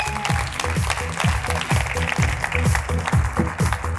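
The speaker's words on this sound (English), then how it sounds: "Give a big round of applause to Dror." Audience applause at a talk as a speaker is welcomed onstage, continuous clapping over a rhythmic low musical beat, both loud and steady throughout.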